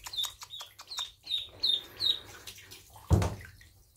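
Runner ducklings in a bathtub give a quick series of six high, clear peeps, followed by a single loud knock on the tub and a few fainter peeps.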